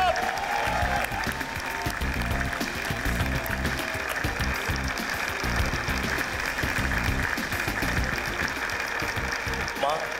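Sustained crowd applause at an awards show fills the space, dense and continuous, with voices and cheering mixed in throughout.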